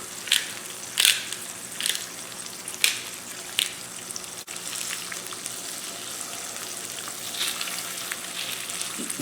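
An egg fries in butter in a pan with a steady, close sizzle and crackle, broken by a few louder pops and scrapes early on, with no voices.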